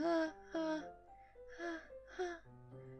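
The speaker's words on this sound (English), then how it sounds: "A sharp inhale like someone is sucking the air through their teeth." Sharp, gasping inhales in a video game, like air sucked through teeth, come in short, close breaths, some with a whimpering, voiced edge, set over a faint steady hum.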